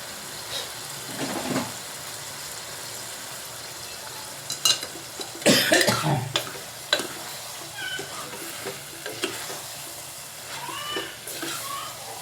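Small unpeeled prawns with heads removed, added to a pan for a drumstick prawn curry, give short bursts of sizzling and scraping stirring sounds, fairly faint with quiet gaps between.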